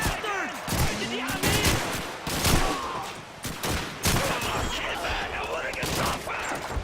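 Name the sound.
Thompson submachine gun firing in video game Call of Duty 2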